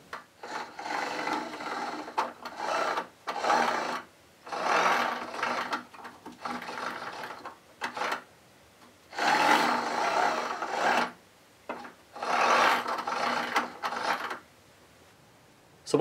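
Motorised cosplay helmet mechanism for an Iron Man Hulkbuster suit, driving the faceplate lever to lift the faceplate: five separate whirring motor runs of one to two seconds each, with short pauses between them, close by and with no talking.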